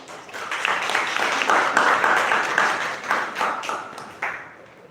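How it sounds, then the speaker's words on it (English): Sustained applause from a Toastmasters audience at a 550th milestone meeting, honoring Toastmaster Sumit. Dense, steady clapping swells and fades over about five seconds. "A big round of applause to Toastmaster Sumit."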